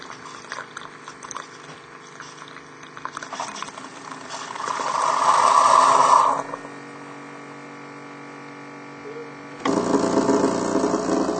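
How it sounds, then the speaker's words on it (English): A coffee maker's pump buzzes and vibrates as the unit refills with water for the next cup: an intermittent low hum swells into a stronger drone, pauses, then resumes loudly near the end. "that vibrating noise is the unit filling up with water for the next cup so that you don't have to wait"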